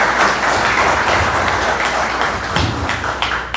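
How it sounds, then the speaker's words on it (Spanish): A conference audience applauds a judge-guest speaker at an international legal conference, steady broadband clapping filling the room throughout, loud and continuous with no speech over it. "pido para él nuevamente fuertes aplausos"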